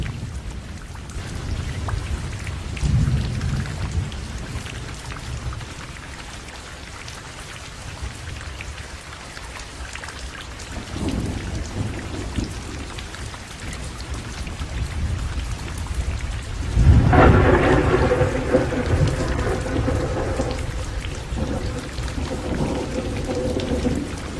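Heavy rain pours down steadily during a monsoon thunderstorm, with deep rolls of thunder rumbling through the downpour and one loud crack near the end, no voices present.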